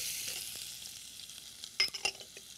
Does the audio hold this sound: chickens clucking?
no